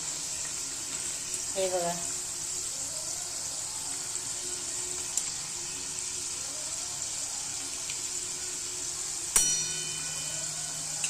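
Small batch of maida khari dough frying in hot oil, a steady soft bubbling sizzle running throughout beneath brief speech, with a light clang of a utensil near the end.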